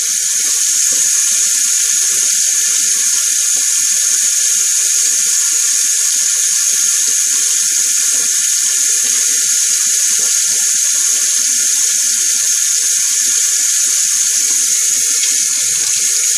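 Running water from a tap gushes steadily and loudly for rinsing while shaving, a continuous hiss with no pauses or voices.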